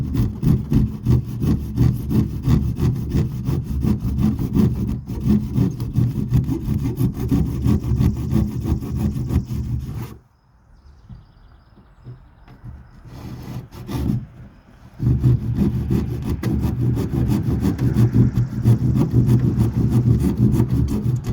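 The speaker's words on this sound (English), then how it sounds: "Now I'm going to use a handsaw to cut out the center of that plywood." A handsaw cuts out the center of a plywood panel during a fiberglass repair on the front of a 5th wheel trailer: loud, close, rhythmic rasping strokes, a pause of several seconds midway, then steady sawing resumes.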